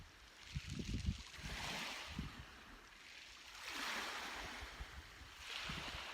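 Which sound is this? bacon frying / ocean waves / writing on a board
ocean waves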